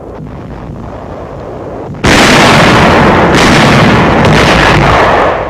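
WWII artillery firing on enemy barges on the Rhine near Dusseldorf, a quieter rumble suddenly giving way to a loud, sustained barrage of blasts that holds for several seconds before easing slightly.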